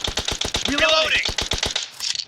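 Rapid automatic gunfire in PUBG Mobile, a fast even stream of sharp cracking shots close by, with a brief rising shout or effect midway, thinning at the end.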